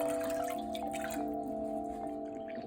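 Vinegar poured into a measuring cup makes a soft, steady trickle that runs for a few seconds, with a faint low hum underneath and no talking.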